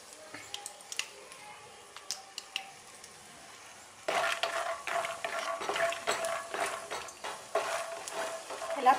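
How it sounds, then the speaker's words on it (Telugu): Peanuts frying in hot oil until light brown, with scattered stirring clicks at first, then a louder steady sizzle and crackle with intermittent scraping, heard up close. "ఆయిల్ వేడెక్కిన తర్వాత వేరుశనగ గుళ్ళను వేసి లైట్ బ్రౌన్ కలర్ వచ్చే వరకు వేపుకోవాలి."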